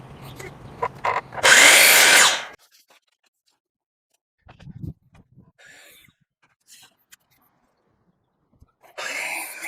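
A power saw makes one short, loud cut through a square wooden trim board for a board and batten wall, close by, followed by quieter handling noises and a second burst of cutting at the end, with brief speech.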